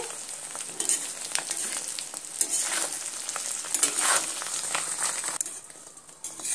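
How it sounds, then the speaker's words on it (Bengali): Eggs fry in hot oil in a home kitchen with a steady, crackling sizzle and occasional sharper pops, close and continuous without any talk. "ডিমগুলো আমার এখানে ভাজা হয়ে গেছে।"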